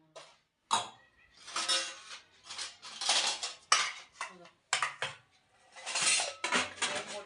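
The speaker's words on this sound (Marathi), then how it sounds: "छोटे ताट तिथं बसते हां मोठे ताट इथं ठेवायचे चमच्याची जागा हीच आहे" Steel plates and spoons clatter as they are stacked and put away in a cramped home kitchen, a run of sharp clinks and scrapes in bursts, close by, with a brief cough among them.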